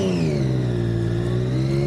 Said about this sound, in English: I'm riding a 2013 Triumph Daytona 675R.